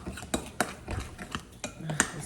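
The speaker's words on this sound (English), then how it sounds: "I'll just use that spoon to stir them up" A spoon stirs eggs for banana muffin batter, giving a run of light clinks and scrapes against the bowl, close and fairly quiet, with a few sharper taps spaced through the stir.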